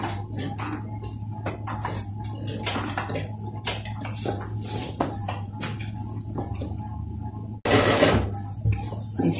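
A sewing machine stitches the placket of a men's kameez shirt, a steady low motor hum under irregular close clicks and clatter, with a louder burst near the end.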